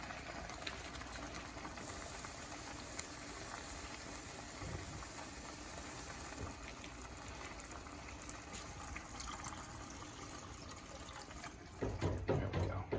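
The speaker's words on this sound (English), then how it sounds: "I'm gonna fill this can up maybe a third of the way with water, swish it around" Tap water running steadily into a metal can at a kitchen sink, a continuous close splashing rush that thickens and grows louder near the end as the can fills.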